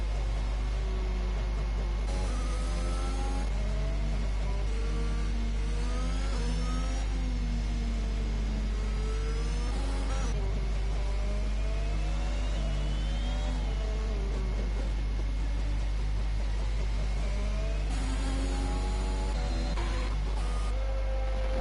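Racing car engines whine and rise and fall in pitch as they shift through gears on a video game track at the Canadian round, the tones sweeping up and down steadily with no talk over them.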